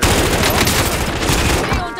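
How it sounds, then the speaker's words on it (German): Dense automatic gunfire from the video game Call of Duty: Modern Warfare, a loud continuous fusillade of rapid shots lasting about two seconds with no pause. "Beschuss."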